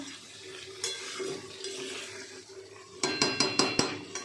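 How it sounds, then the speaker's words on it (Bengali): Chicken pieces being stirred and slow-fried in thick masala in a pan, a steady sizzle throughout, then from about three seconds a quick run of sharp spoon-on-pan scrapes and clanks, close and fairly loud, with no talking. "এটা কিন্তু অনেকক্ষণ কষিয়ে কষিয়ে রান্না করবো"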